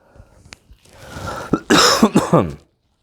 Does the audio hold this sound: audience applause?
no